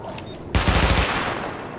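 A weapon in the video game The Division fires at targets during a firing-range test, a sudden loud burst of rapid shots that rings out and decays into a lingering echo.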